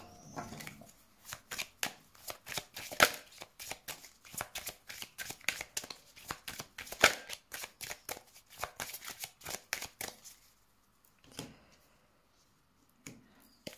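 Cards shuffled for a tarot-style reading, a rapid run of crisp riffling snaps for about ten seconds, then a few isolated soft card sounds near the end, close and with no talking.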